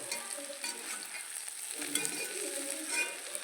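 Chicken sizzles and fries in a pan with crushed black pepper for a Kerala-style chicken peralan, giving a steady close crackle with occasional stirring scrapes and no talking.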